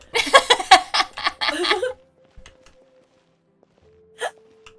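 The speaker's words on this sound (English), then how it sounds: "Oh, excuse me, I have a hiccup." A single short hiccup rings out near the end after a brief burst of laughter and voiced sounds, then quiet follows.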